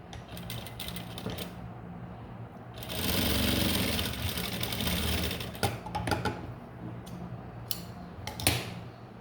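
Blouse stitching on a sewing machine: close, mechanical runs of rapid needle clatter, one longer steady burst in the middle, then short start-stop bursts with small clicks and handling noises between them.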